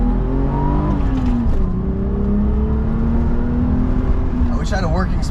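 A Euro BMW 635csi with a dirty M30 engine and fuel delivery issues pulls away in first gear, its engine drone heard from inside the car, loud and steady, climbing slowly in pitch as it accelerates.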